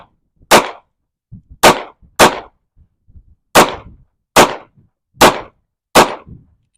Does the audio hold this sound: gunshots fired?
yes